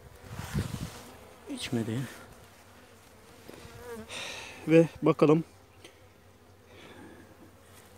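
Honeybees from a weak hive being tended hum in a soft, steady buzz throughout, with someone speaking briefly over it in a few short phrases.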